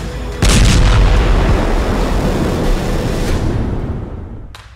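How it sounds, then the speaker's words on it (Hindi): A heavy explosion from an Israeli airstrike on Hamas tunnels in Gaza: one loud, close blast followed by a long roaring, rumbling decay that fades over several seconds, with no voices. "इजराइल के हमले में हमास का एंटी टैंक मिसाइल ठिकाना तबाह।"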